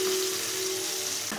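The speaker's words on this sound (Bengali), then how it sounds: "পেঁয়াজটাকে ভালো করে ভাজবো।" Chopped onions frying in a pan after a hing tempering make a steady hissing sizzle, fairly loud and even, ending with a short clatter near the end.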